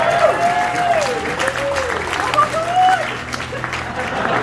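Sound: audience applause at a comedy magic show

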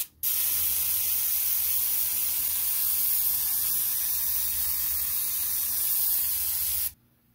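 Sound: airbrush spraying Vallejo Model Air Russian AF Grey paint

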